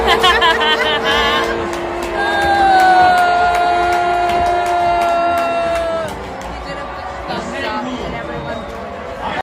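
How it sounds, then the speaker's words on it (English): A large crowd roars with loud jeers and shouts, with a sustained tone rising above the noise before the din eases off. "Oh my God, everyone's booing."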